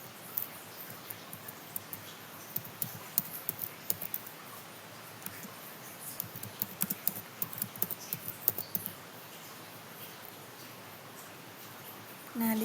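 Typing on a computer keyboard, with quiet, irregular key clicks and occasional bursts of taps in a calm room, fading to near silence toward the end.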